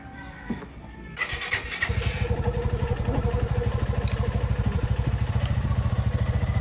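A 2024 Suzuki Gixxer motorcycle engine starts up and settles into a steady, close rumbling idle with a regular pulsing beat.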